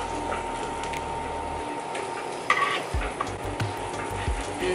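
Egg frying sunny side up in butter in a pan, a steady close sizzle with faint stirring and scraping clicks toward the end.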